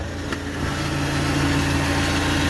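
A propane-fuelled Cat GP25K forklift with a three-stage mast idles steadily, its low engine hum and vibration running evenly from start to finish at close range.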